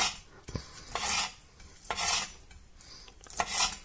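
A knife chops fresh parsley just picked from the garden on a cutting board, a few crisp scraping slices with soft knocks against the board, close and fairly quiet.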